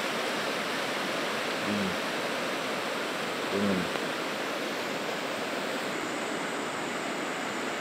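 River water flowing in a mountain setting, a steady broadband rush close by that continues unbroken throughout, with a couple of faint low thumps but no talking.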